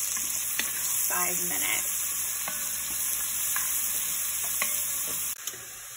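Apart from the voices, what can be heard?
onions cooking down in a pan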